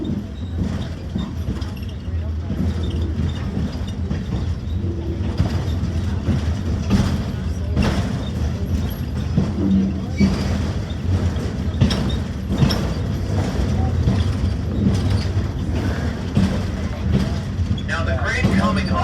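Railroad engine 1276 labours up a steep 4% grade out of Ryan Quarry at the South Carolina Railroad Museum, a continuous low mechanical rumble with creaks and clanks running steadily throughout.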